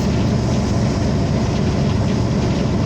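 The Hazara Express passenger train runs at night, a loud, dense, continuous rumble of wheels and carriage noise heard from inside, steady throughout with faint rhythmic rattling.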